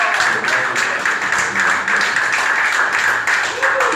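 Steady, dense clapping rises from a concert audience in a theatre hall, loud and continuous throughout without breaks.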